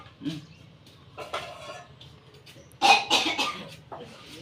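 A few harsh coughs close by, spaced out with short pauses between them, with light kitchen clatter in the background.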